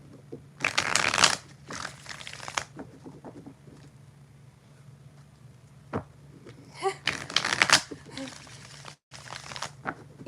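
Tarot cards being shuffled by hand, several distinct riffling bursts separated by quieter pauses and a few soft taps, close and fairly loud, with no talk.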